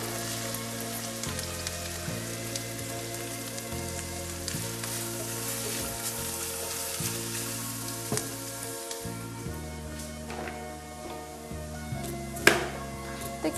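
Carrot and onion sizzle steadily in a hot frying pan, a soft continuous crackle with quiet music playing in the background.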